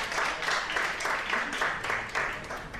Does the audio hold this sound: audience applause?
yes